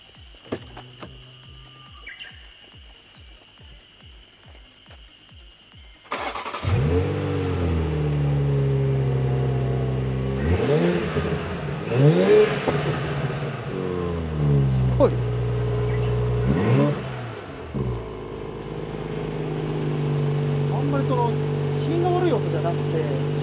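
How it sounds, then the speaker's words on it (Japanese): A car fitted with a titanium competition exhaust muffler starts up after faint ticking, then idles loudly and is revved several times in rising, falling swells close by. "マフラーが、チタンの、はい、まあ、競技用になっちゃうんですけども、はい、ちょっと音を聞いていただけると"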